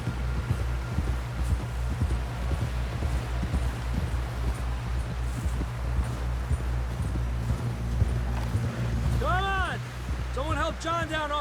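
Horse hooves clip-clop at a walk in the video game Red Dead Redemption 2, a steady muted rhythm under a low rumbling background, with a brief tonal call near the end.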